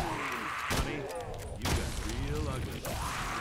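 Gunshots in the Evil Dead video game, a few heavy booming blasts spaced about a second apart, loud and close, with talk over the firing.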